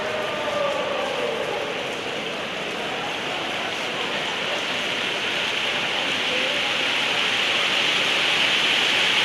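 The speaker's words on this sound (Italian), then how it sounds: "Quella che sentite è grandine." Heavy hail pelting the roof of the Palatorrino indoor sports arena in Rome during a thunderstorm that halts a futsal match, a dense, steady roar that swells slightly toward the end.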